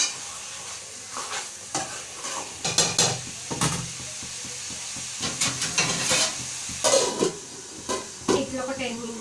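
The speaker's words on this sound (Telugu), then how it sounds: "మసాలా మొత్తం చికెన్కి పట్టే వరకు మనం కలుపుకోవాలి." Chicken coated in masala is stirred in a sizzling pan, with repeated scraping and clattering strokes of a spoon against metal over a steady frying hiss. The sounds are close and come in irregular bursts.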